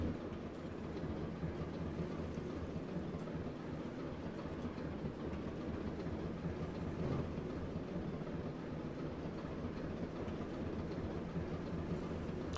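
A train in Train Sim World 2 on a West Cornwall local route, pulling its carriages with a steady low rumble and rail noise that stays constant throughout.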